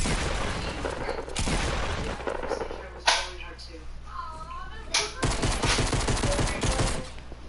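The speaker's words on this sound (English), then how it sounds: "That is a pistol." Pistol fire in a shooting video game comes in sharp bursts of shots amid other game explosions and effects, while players talk excitedly over the action.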